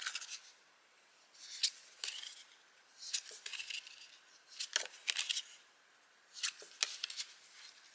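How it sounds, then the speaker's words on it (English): Tarot cards are flipped and shuffled by hand in quick, crisp papery bursts of riffling and snapping, coming in several clusters separated by short quiet gaps, close up and fairly soft. "should we flip through some cards first?"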